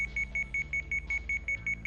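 A video game alarm beeps in Sweet Fuse, a rapid regular series of high electronic pulses, about six per second, steady and alone over a low background hum.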